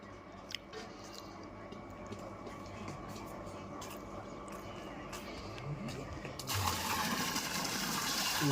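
Water pours in a steady, hissing splash that runs on without a break and swells fuller and louder near the end, heard close by.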